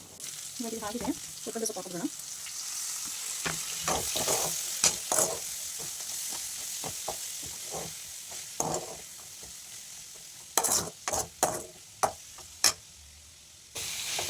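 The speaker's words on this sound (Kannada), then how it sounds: "ಕಡಲೆ ಬೀಜ ಮತ್ತು ಗೋಡಂಬಿ ಎರಡೂ ಹಾಕ್ಬಿಟ್ಟು ಚೆನ್ನಾಗಿ ಫ್ರೈ ಮಾಡ್ಕೋಬೇಕು" Peanuts and cashews fry in a pan for a palak paneer gravy masala, a steady sizzle broken by repeated stirring scrapes and clinks of a spoon against the pan, close up and fairly loud.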